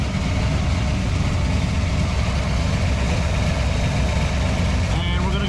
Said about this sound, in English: We are idling at about 960 RPM.